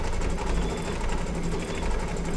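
An embroidery machine stitches circles onto a quilt, giving a steady, fast mechanical chatter of needle strokes, close and continuous with no speech.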